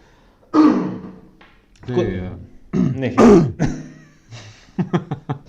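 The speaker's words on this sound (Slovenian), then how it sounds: "Nekaj kašljati, ne." Someone coughs and clears their throat several times, with short rough bursts that grow into a quick cluster of sharp coughs near the end. Speech-like vocal sounds sit among them.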